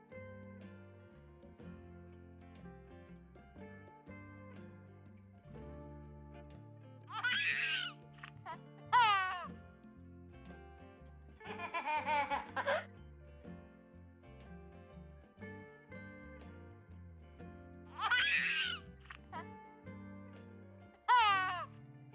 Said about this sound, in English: The next scene also needs a baby laughing,